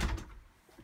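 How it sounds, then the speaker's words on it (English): A sliding bathroom door in a 2008 Host Yellowstone 11.5DS truck camper moves with a short, fairly loud knock at the start, then fades to a quiet interior hum. "This bathroom is a sliding door"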